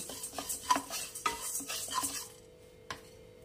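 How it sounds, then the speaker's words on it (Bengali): Red chilies dry roasted in a pan for a sweet-and-sour chili pickle, with a spoon scraping and stirring in quick rhythmic strokes for about two seconds, then stopping, followed by a single clink. "এটাকে আমি হালকা ড্রাই রোস্ট করব, পুরো লাল করে ভাজবো না"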